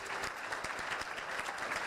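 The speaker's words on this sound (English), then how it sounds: "We should do another big round of applause for the panel." A conference audience gives a round of applause to a panel at a medical regulation plenary, steady dense clapping throughout, fairly distant and moderately quiet.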